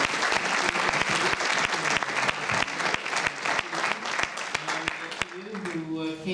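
Audience applause for volunteers at an all-candidates forum for the 2019 federal election in Ottawa-West-Nepean, with sharp individual claps cutting through the crowd. A voice rises as the clapping thins toward the end.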